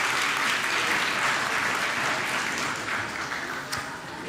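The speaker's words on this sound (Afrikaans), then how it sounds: "kom ons gee vir ons kinders nog so een lekker hande klap." A crowd claps steadily for a group of children at a church gathering, a dense, sustained round of applause that holds strong and then tapers slightly toward the end, with no voices over it.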